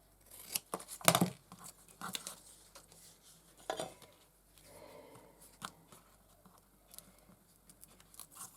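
Scissors snip through paper while shabby tags are made, a handful of sharp, close crisp cuts spaced irregularly, with some soft rustling between them and no talking.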